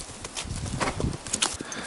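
A little mare's hooves clip-clopping at a walk, an uneven series of close knocks with soft thumps beneath, clearly audible for a couple of seconds.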